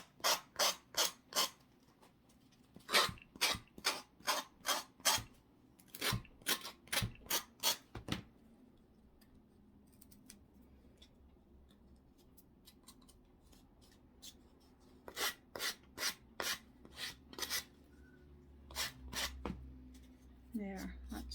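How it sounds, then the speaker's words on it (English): A sanding block rubs over a wooden cross in bursts of quick, scratchy back-and-forth strokes, close and crisp, separated by a quieter pause before the strokes resume. "I've got the sanding block, so I'm just going to see if the sanding block will smooth that out."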